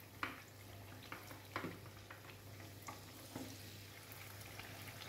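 Buñuelos of batter frying in hot oil in a buñuelo iron, a quiet continuous sizzle with small bubbling pops and a few brief louder crackles, close and alone.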